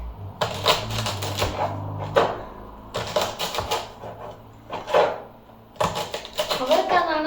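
Broad beans (avarakkai) being chopped on a board, short bursts of rapid knife taps separated by pauses, close and fairly clear, with someone talking in between.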